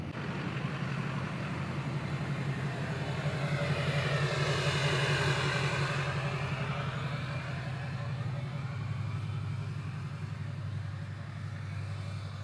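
A Duramax pickup towing a Big Tex dump trailer rolls along with a steady, droning engine and road rumble, swelling slightly midway and holding continuous and fairly close throughout, with no talking.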